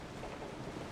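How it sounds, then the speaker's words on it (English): Steady rain with low thunder rumble in a night scene of the video game Resident Evil Biohazard, a dense, even wash of noise throughout the short stretch, fairly quiet with no talking. "Why is it raining all of a sudden?"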